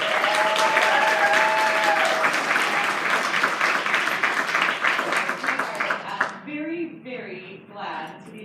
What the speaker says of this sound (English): let's have a big round of applause for the class of 2021